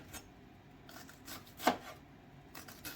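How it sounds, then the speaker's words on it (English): Cooked chicken is chopped off the bone with a few soft, scraping cuts on a board, one sharper knock standing out, close and quiet with no talk. "You're just doing this, chopping, and just take your chicken off your bone."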